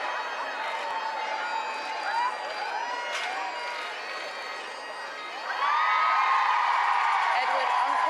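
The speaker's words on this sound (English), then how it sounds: "The crowd very pleased by that wave for them." Crowd outside Canongate Kirk cheering and calling out as royal guests, the Earl and Countess of Wessex, arrive for a wedding; a steady background roar that swells louder near the end, with a commentator talking over it.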